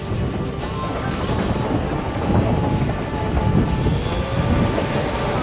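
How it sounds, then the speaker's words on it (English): A narrow-gauge steam train on the Durango & Silverton line in Colorado rumbles along steadily with a deep, continuous roar and rattling of the cars, loud and close, with no talk. "the tireless chugging of the locomotive"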